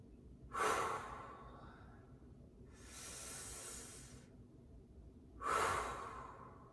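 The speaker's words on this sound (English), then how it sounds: "A couple of big breaths." Two deep, breathy inhalations and exhalations, with a long airy exhale between them, close and clear with no talking, taken during a standing stretch before a full moon meditation.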